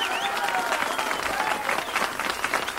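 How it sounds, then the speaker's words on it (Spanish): A studio audience on a musical television show breaks into steady applause, a fairly close, dense patter of clapping with some crowd noise mixed in. "¡El aplauso!"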